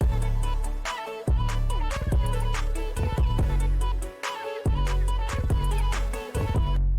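A hyperpop glitchcore beat with claps, snares and hi-hats, loud and punchy, with heavy bass hits, bright melodic layers and brief dropouts and stutters between bars.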